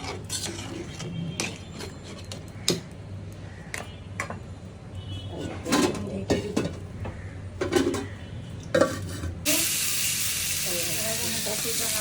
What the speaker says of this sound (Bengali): এখন একবারে গরম পানি দিয়ে দিচ্ছি যেন তাড়াতাড়ি সিদ্ধ হয়ে যায়